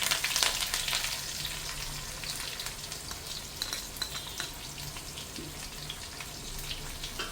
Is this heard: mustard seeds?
yes